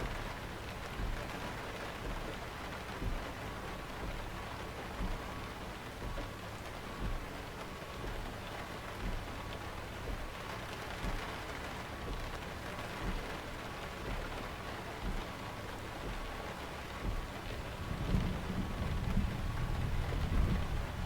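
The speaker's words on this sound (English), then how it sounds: "we got a storm going on here" Steady rain pours over a dark night scene in the American Truck Simulator video game, a constant hiss with faint patter, and a deep rumble of thunder swells near the end.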